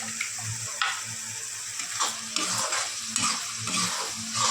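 Steady sizzling and crackling of spices tempering in hot oil for dal, with occasional stirring scrapes, close and continuous with no talking.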